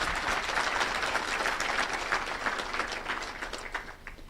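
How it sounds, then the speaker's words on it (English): A conference audience at the launch of the icipe vision and strategy applauds in honour of Professor Odhiambo. The clapping is dense and sustained, then thins and fades toward the end, with no speech. "May we applaud Professor Odhiambo."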